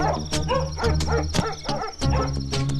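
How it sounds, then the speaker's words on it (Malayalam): A dog barks in repeated sharp bursts at night, loud and fairly close, with a steady low hum and other faint noises between the barks. "അവിടെ എന്താ പട്ടി കുറയ്ക്കണേ?"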